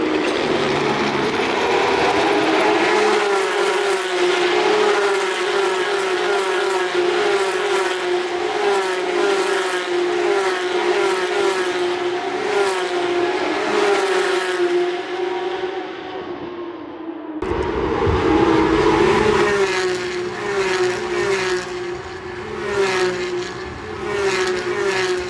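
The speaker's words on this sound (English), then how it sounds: "It's crazy to see Street Legal 911 GT3 Cups to race on a racetrack." Porsche 911 GT3 Cup race cars of the Porsche Supercup, street-legal based, racing on a racetrack at a Formula 1 weekend, their engines droning steadily and loudly for the whole stretch, with a short gap before another car roars past.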